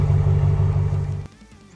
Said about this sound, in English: It's got tuned exhaust. It's not overly loud, but it's just absolutely mean.